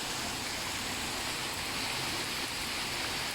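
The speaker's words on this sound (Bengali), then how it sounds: "বৃষ্টি হওয়ার মতো হচ্ছে এত বড় বড় ফোটা ফুটছে ফোঁটাগুলো অনেক বড় বড়" Heavy midday rain with large drops pours steadily onto a courtyard, a dense, even hiss that stays constant and fairly soft with no voices.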